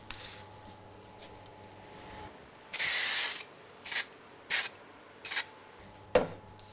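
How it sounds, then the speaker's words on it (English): Short bursts of spray glue from an aerosol can during a papercraft job extending craft dies: one longer hiss of about a second, then four brief, close puffs, with no talk. "I think I'll just use a little bit of spray glue."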